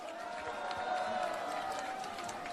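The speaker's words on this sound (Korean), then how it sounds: "다시 한번 힘찬 박수 부탁드립니다" A rally audience applauds in a steady, dense wash of clapping that holds evenly throughout, with a faint sustained tone running underneath.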